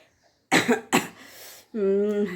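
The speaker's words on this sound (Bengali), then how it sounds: "তবুও একটু মানে কাশি আছে" A person recovering from illness coughs twice in quick sharp bursts, close to the microphone, followed by a short voiced sound.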